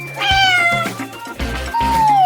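A cat meows several times in a row, close and clear, each call rising and then trailing down in pitch, with no talking over it.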